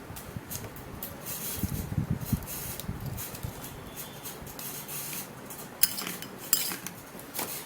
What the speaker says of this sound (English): I'm going to be cutting it in tiny pieces, alright, into my tiny bowl